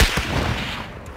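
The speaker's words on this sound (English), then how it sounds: "One guy shooting from here, so be careful." Gunfire crackles in a Call of Duty: Warzone Rebirth Resurgence quads match, with a loud burst at the start followed by rough, rattling shots that thin out and fade away.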